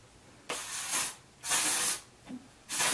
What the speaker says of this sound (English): And then we're gonna take some of this texture spray.